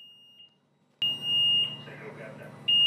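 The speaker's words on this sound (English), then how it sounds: "you press the button, it starts beeping." A steady high-pitched electronic beep warns of a closing door on a superyacht, cuts off briefly, then resumes while a low mechanical hum and faint voices continue underneath.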